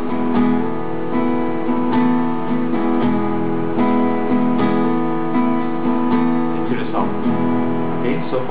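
Acoustic guitar strumming the intro chords of the worship song Refiner's Fire in a steady down-up pattern, close and clear with ringing sustained chords and no voices.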